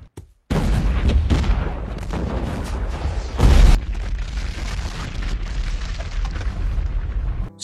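A large explosion from The Hunger Games (2012) as a bag of apples tears open and blows up the supplies, with a sudden booming blast followed by heavy rumbling, a sharp burst midway, and a fading roar.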